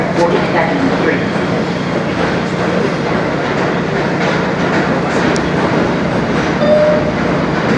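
A Queens-bound R160B N express train on the New York City subway rides along with a loud, steady rumble, wheel clatter and a faint squeal, heard from inside the car.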